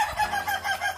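Chickens in a coop give short, repeated clucks in a quick rhythm, close and moderately loud, with no voices.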